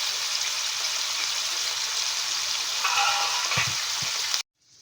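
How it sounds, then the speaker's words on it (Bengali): Cashews fry in a pan for a yogurt soya chunk curry with a continuous close sizzle and faint stirring scrapes, then the sound cuts off abruptly near the end. "2 মিনিট এরকম ভেজে নেব এটাকে।"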